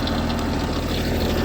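A small 26 horsepower tractor engine idles close by, a steady low chugging throb that holds constant throughout with no speech.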